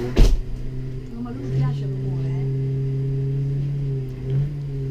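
Scooter engine at the Malossi workshop in Italy revving up, a steady mid-pitched drone that rises in pitch as it accelerates and then holds, with a sharp knock at the start and a voice speaking over it.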